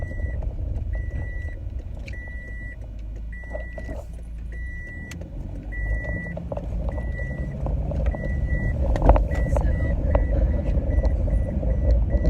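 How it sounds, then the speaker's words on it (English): A steady, repeating electronic chime pulses at an even rhythm inside a car, over the low rumble of the engine and road noise. "setting off the seatbelt alarm again"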